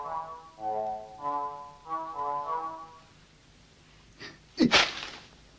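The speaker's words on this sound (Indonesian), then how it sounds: "Siapa yang bersin barusan?" A sharp, loud sneeze bursts out in a 1985 Indonesian comedy film. A short gasping intake comes just before it, and a toned voice is heard earlier.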